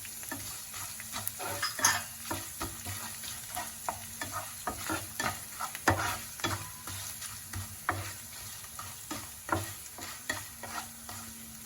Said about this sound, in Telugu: అల్లం తురుము కూడా ఇందులో వేసుకుని వేపుకోవాలి